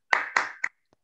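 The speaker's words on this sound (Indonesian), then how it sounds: "Oke, tepuk tangan." Three sharp hand claps from students in a classroom, close and crisp, the first two ringing slightly and the third shorter, followed by a faint fourth tap, with no talking.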